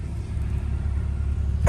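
Truck engine rumbling while driving, a steady low drone heard from inside the cab, with a thump at the end.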